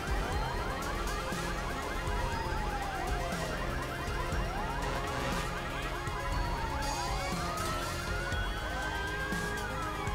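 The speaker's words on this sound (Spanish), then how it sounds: "Opa, la sirena." A police siren in the video game GTA 5 wails in repeated sweeping rises and falls, steady and fairly loud over a constant background hum, with no talking.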